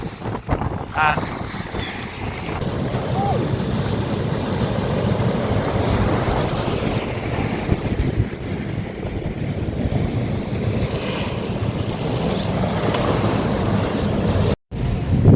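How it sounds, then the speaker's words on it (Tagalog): Heavy wind buffets the microphone over a steady rush of big waves and water, continuous and loud throughout, on the coast of Apayao province in the Philippines. "Ang lalaki ng alon."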